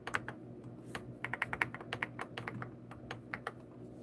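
Computer keyboard keys tapped in irregular bursts of crisp clicks, with short pauses between runs, close and fairly quiet over a low steady background hum.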